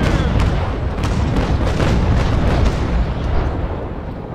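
Cannon fire from the frigate HMS Surprise in the naval combat game Naval Action, a dense, continuous barrage of booming shots and rumbling blasts with sharp repeated impacts, loud and close, no talking.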